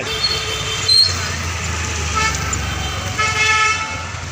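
Busy traffic jam near a metro station in Nagpur, a steady roar of engines with a few short horn toots standing out, nearby and continuous.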